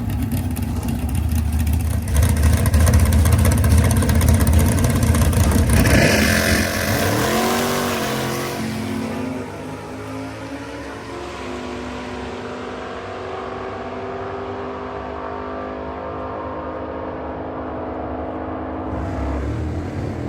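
A Camaro drag car on a quarter-mile test pass, using a trans brake and delay box, rumbles loudly at idle, then roars into a hard launch that fades into a sustained, receding engine drone.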